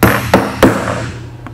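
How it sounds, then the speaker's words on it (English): Hammer striking a hole punch into a shoe outsole over a cutting board: three sharp, close metallic blows in quick succession, then a fainter fourth tap, with no talk. "take our hammer, give it a couple good blows."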